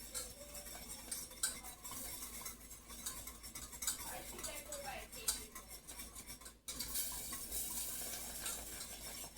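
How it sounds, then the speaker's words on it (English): A whisk stirs thick béchamel sauce in a pot, a steady scraping and clinking against the metal that runs throughout, with a sharper burst near the end; a voice speaks faintly at moments. "I'm going to whisk it once again to get a little tinge."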